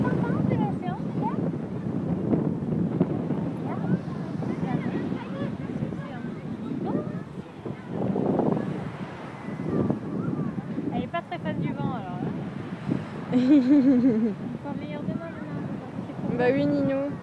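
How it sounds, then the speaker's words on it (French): Wind buffets and rumbles across the microphone in gusts at the ocean shore while people talk nearby. "Bah, il y a du vent."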